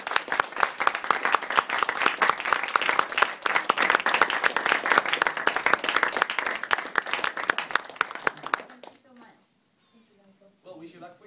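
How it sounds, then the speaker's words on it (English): Michael Schumacher receives applause from an audience at Imperial College, loud, dense clapping sustained for about eight seconds before it stops abruptly, followed by quiet room tone and a voice beginning to speak. "So please, a round of applause."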